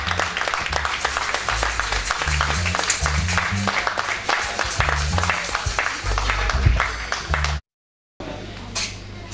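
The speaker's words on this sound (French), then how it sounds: "Est-ce que nous pouvons donner une offrande d'acclamation pour la gloire de notre Seigneur Jésus?" Church congregation clapping and acclaiming in praise during a New Year's Eve service, dense rhythmic clapping with a thumping low beat underneath, loud and close, breaking off into a brief silence before resuming.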